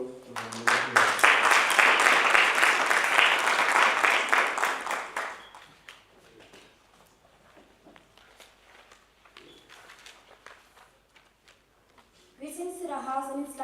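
Loud applause from a school audience in a hall at a district road safety debate competition, a dense burst of clapping for several seconds that fades into quieter room noise before another loud sound at the end.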